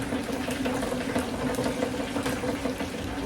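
Buffalo wings bubble and crackle in a deep fat fryer, a dense steady sizzling hiss that stays loud and even throughout with no voices.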